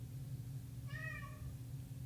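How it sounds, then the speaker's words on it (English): A cat lets out a single short, plaintive meow at moderate distance, heard over a steady low electronic hum in a room with ham radio equipment. "It's my cat."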